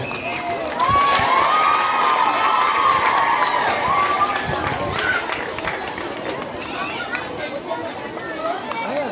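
A concert crowd claps and cheers to welcome a singer onstage, a loud, dense burst of applause with shouts. Voices chatter through it before the noise gradually thins out.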